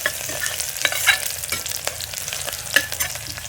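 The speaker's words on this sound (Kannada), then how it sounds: "ಹಾಕ್ಕೊಂಡು ಸ್ವಲ್ಪ ಫ್ರೈ ಮಾಡ್ಕೊಂಡು ನೀವು ನೋಡ್ತಾ ಇದ್ದೀರಲ್ವಾ, ಸ್ವಲ್ಪ ಕಲರ್ ಚೇಂಜ್ ಆಗಲಿ." Green chillies and other ingredients fry in an oiled pan for a homestyle Sunday meat meal, with a steady sizzle punctuated by repeated scrapes and clinks of a spoon stirring, close and without speech.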